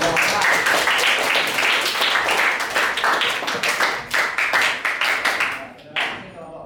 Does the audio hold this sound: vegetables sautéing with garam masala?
no